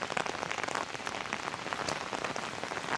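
Steady, dense rain patters continuously on surfaces during a ferry ride on the Muppane launch near Sagara, Karnataka, a close, even hiss of many drops with no talk.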